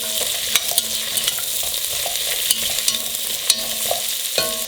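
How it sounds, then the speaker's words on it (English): Celery and carrots stirred into braising oxtails in a pot, steady sizzling with scattered scraping clicks of the spoon, close and moderately quiet, no talking. "So at this point I'm going to add our celery and our carrots in there. And we're just going to stir this all up"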